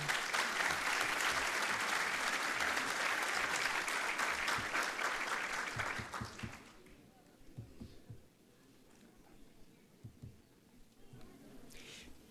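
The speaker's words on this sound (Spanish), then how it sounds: "Le brindamos un fuerte aplauso." Loud sustained applause from a seminar audience greets a speaker on Peru's electoral revocation debate, then fades out, leaving scattered claps and low room noise.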